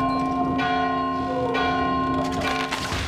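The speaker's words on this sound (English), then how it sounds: "so now if I ring the bell, is it gonna fall?" A large bell tolls in the video game Valiant Hearts, its bright ringing tone sustained with long overtones and struck again a couple of times, loud and close with no talk over it.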